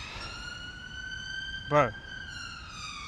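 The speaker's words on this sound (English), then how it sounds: "There's so many ambulances that have passed today." A siren from ambulances passing on a London street, a steady wailing tone that runs the whole time at moderate distance, with a brief spoken word from a nearby man partway through.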